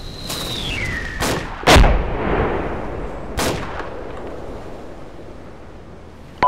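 Gunfire in the military video game Arma 2 comes as a few sharp, loud shots spaced over several seconds, each followed by a rolling echo, with a brief whistling tone early on.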